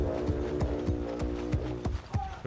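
Horse hooves clip-clop in a rhythmic clatter during a video game battle, with a mechanical, ratcheting layer behind them and a steady backing drone, loud and continuous.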